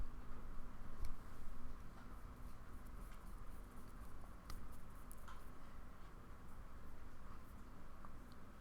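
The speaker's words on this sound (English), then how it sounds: "I'm hoping you guys can hear the rain." Rain falls outside, a faint, steady patter heard from indoors, low and even throughout with a few light ticks.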